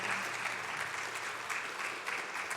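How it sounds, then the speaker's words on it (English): A pageant audience applauding a departing titleholder on her final walk across the stage, sustained, even clapping from a large crowd heard from a distance and fairly faint. "Please give her another round of applause"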